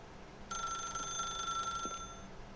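A telephone in The Stanley Parable suddenly starts ringing with a steady, bright electronic bell tone that continues for about two seconds, clear and fairly close in a quiet room.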